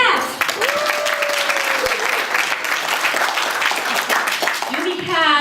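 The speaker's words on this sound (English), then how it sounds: "So round of applause to that." Audience applause fills a packed room at a keynote speakers master class, steady dense clapping throughout with a few whistles and cheers near the end.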